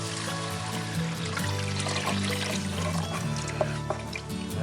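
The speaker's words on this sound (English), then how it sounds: "we're going to give it a quart of water" A quart of water pours into a cast-iron Dutch oven with chicken and seasoning inside, a steady splashing trickle that carries on under a low background hum, with a couple of small clinks near the end.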